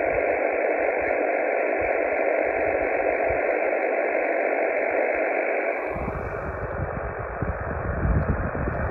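Radio reception from another summit-to-summit amateur station in Hungary, heard on a mountain summit as a steady band of noisy radio hiss with a muffled received signal that shifts and grows rougher near the end; no clear talk.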